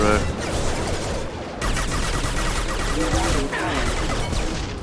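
SMG fire in the sci-fi shooter video game Mass Effect 2 rattles in loud rapid bursts with brief pauses between them, mixed with combat noise and impacts.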